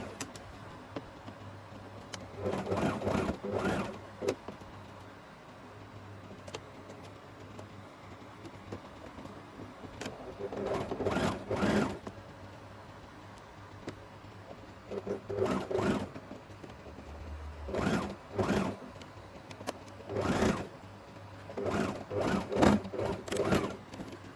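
Sewing machine stitching a half circle maxi skirt runs in several short bursts separated by quiet pauses, with a steady low hum beneath, close and moderately quiet.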